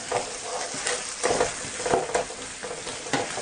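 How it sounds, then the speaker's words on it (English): Potato pieces stirred into fried masala for aloo matar paneer, with a steady sizzle under several close, scraping spoon strokes, no talking. "In this point add potato. Give it a mix"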